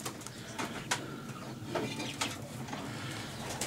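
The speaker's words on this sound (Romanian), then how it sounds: "Am aici un, da, porumbel de 2009" A racing pigeon bred in 2009 gives soft, repeated throaty coos among other birds, heard at moderate distance over a steady, noisy background with no talking.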